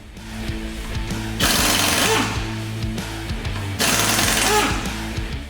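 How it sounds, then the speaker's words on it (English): An impact wrench removes lug nuts from a wheel during a brake job, giving two loud, close bursts of rapid hammering rattle over a steady mechanical drone, with no talking. "we're going to use our impact and socket to remove the lug nuts"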